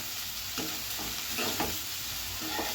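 Onions fry in a pan for boondi curry, giving a steady, close sizzle broken by several soft stirring scrapes at uneven intervals.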